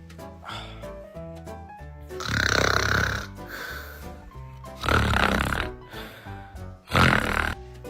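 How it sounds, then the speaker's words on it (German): A woman snoring loudly in bed beside her partner: three heavy, rasping snores, each a drawn-out rumbling inhale, rise above a steady background music bed. "Wenn deine Freundin neben dir schnarcht."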